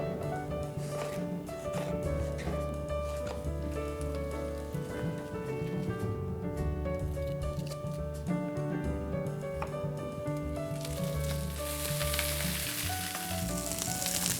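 Thick slices of eggplant sizzle in a hot frying pan, a continuous crackling hiss running beneath loud background music.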